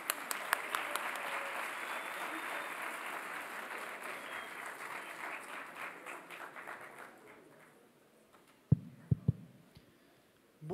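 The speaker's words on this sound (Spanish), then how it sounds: "Recibamos con un aplauso al ingeniero Guillermo Cepeda." A seated audience at an engineering symposium applauds to welcome a speaker, steady dense clapping that fills the room for several seconds and then fades away, ending with a few close thumps.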